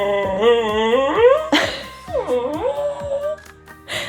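Sunday, a dog reacting to someone on the porch, lets out wavering howls and yelps with sharp barks between, close and loud in a home setting, the howls rising and falling.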